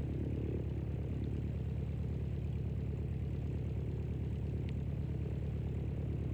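An Extra aerobatic aircraft circles back round to land at an Old Buckenham air display, its propeller engine a steady, unbroken drone held at an even level from start to finish.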